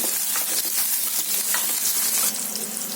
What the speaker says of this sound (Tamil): ஜீரகம், பூண்டு சேர்த்துக்கோங்க. பூண்டு நல்லா வணக்கிக்கலாம்.